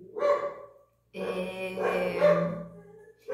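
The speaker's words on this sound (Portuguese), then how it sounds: "os cachorros estão latindo" Several dogs bark at home, a flurry of close, loud yapping bursts that pause briefly and then resume, with no talking over them.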